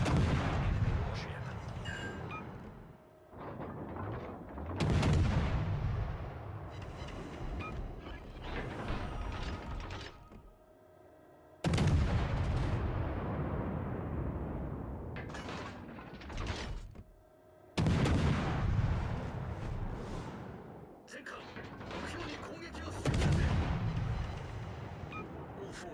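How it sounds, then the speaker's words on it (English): Naval gunfire in a warship video game: heavy booming salvos land in several loud bursts, each rolling off into a long rumbling tail, with quieter mechanical clatter between shots. "Concentrate fire on enemy warship."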